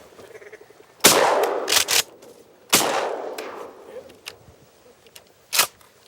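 Two loud shotgun blasts ring out over a Canadian marsh during a duck hunt, each followed by a long echoing decay, with a few sharper, quieter knocks after them.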